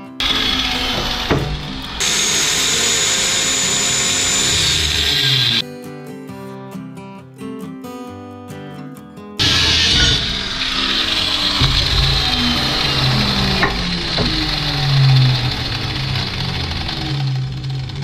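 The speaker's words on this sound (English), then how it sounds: "So I am not very graceful with the cutoff wheel, but there is a hole there" Cutoff wheel slicing through sheet metal to make a hole for a homemade rocket stove, a loud continuous high grinding whine that breaks off midway for a few seconds and then resumes for the rest.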